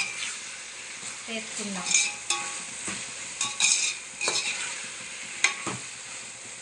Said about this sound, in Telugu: ఐలో పెట్టేసి దీన్ని వేపుతున్నామండి